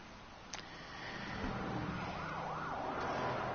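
Police car sirens in Batman: The Telltale Series, a wailing siren rising and falling in steady sweeps that grows louder over a rainy city ambience, with a brief sharp transient early on.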